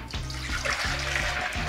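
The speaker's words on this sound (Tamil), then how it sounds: "இப்போ தேவையான அளவு தண்ணி ஊற்றிக்கலாம்" Water pouring steadily into a pot of sambar, with a gurgling, sloshing flow that rises and falls in rhythmic pulses, close and continuous.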